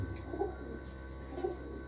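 A female racing pigeon coos softly twice, about a second apart, against a quiet background hum.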